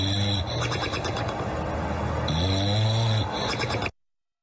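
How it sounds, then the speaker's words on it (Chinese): Human snoring, loud and close, in repeated rough breaths of about one second each, ending abruptly. "来，你听听第一种鼾声"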